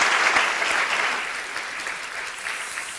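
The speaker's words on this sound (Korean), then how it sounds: "Vamos a darle un fuerte aplauso a los miembros" A church congregation at a Christmas Sunday service applauds the choir, sustained dense clapping from a large crowd that slowly tapers off.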